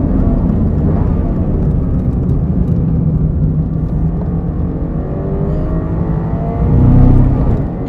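Toyota GR86 driven at Suzuka circuit, with a steady low rumbling drone from tires carrying picked-up rubber debris, continuous under engine whir, swelling louder near the end.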